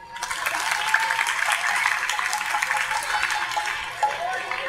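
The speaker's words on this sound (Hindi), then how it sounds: "इनके लिए तालियां दो" Audience applause for dancers at a lecture gathering in Thakkar Bappa Colony, a dense, steady clapping wash that swells in and holds at moderate loudness throughout.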